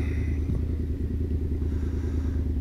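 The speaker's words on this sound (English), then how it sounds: "There is a Royal Enfield driving over there," A Royal Enfield motorcycle passes at a distance, its steady engine rumble and low throb running continuously under the nearer drone of another bike being ridden.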